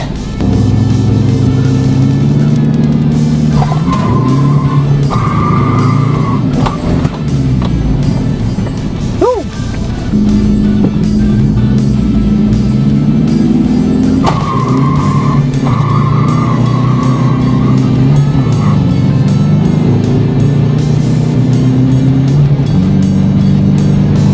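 A lifted Toyota Hilux with a 1KD diesel spins its wheels at a drag race. A loud, close engine roar runs throughout with tire squeal and skidding, and a brief sharp sweep comes midway.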